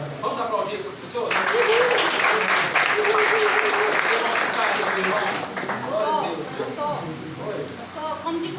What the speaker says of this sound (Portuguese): Vamos aplaudir essas pessoas?